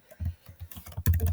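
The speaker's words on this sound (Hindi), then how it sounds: "मुझे पता है आपको लाइक ये टाइपिंग की आवाज़ इनोइंग लग रही होगी" Fast, heavy typing on a computer keyboard, close and loud, with clustered key strikes and a denser burst of clatter near the end.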